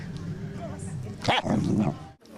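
A dog barks outdoors at a city dog festival, giving a couple of close, sharp barks over a busy crowd murmur, with people talking around it.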